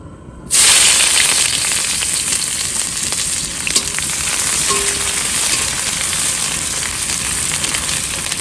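Chopped ginger, onion and garlic hit hot oil in a pan on a boat, setting off a sudden loud sizzle that holds as a steady, close frying hiss with faint stirring clicks, and no talking.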